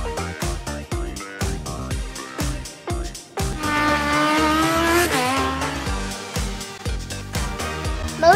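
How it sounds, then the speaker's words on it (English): A motorcycle engine roars and revs with rising, wavering pitch for several seconds, mixed under a loud, pounding music beat that carries on throughout. "Motorcycle."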